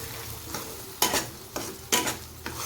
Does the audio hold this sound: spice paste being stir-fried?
yes